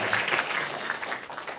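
A church congregation gives a round of applause, steady dense clapping from many hands filling the room at moderate volume throughout.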